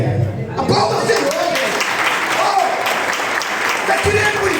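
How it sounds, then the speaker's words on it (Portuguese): Congregation applause at a Portuguese-language evangelical church service, a broad wash of clapping that starts after a brief voice and carries on steadily, with a speaking voice surfacing above it. "Aplauda o Senhor."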